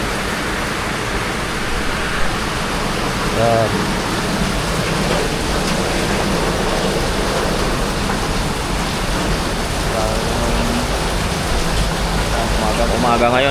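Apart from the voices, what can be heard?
heavy rain outside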